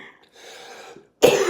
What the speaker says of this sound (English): This cough is just really frustrating.